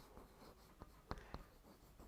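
Pen or marker writing on a board during a Class 9 maths lesson on the area of parallelograms and triangles, heard as a few faint scratchy strokes, two sharper taps in the middle, no talking.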